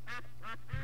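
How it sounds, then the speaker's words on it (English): A duck quacks three times in a quick, evenly spaced run, close and clear over a low steady hum. "Now you got that duck quacking."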